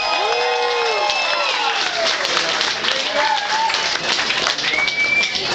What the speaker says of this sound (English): I just want to hear a great big Blues Central round of applause for Bob Lester of the Bob and Mark Show.